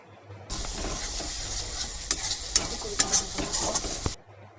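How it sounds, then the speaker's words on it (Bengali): Spice paste fries in hot oil with a steady, close sizzle lasting a few seconds, broken by brief scraping stir strokes, then stops abruptly. "যতক্ষণ না মশলা থেকে তেল ছাড়ছে ততক্ষণ মশলাটা ভেজে নেব"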